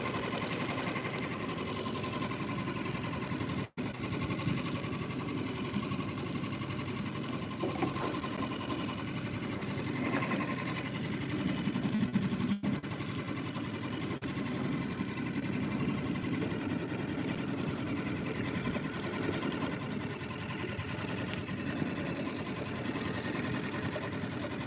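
A 2025 Suzuki 6HP outboard motor idles steadily, its even mechanical purr constant and close for the whole stretch, with no pauses apart from one brief click.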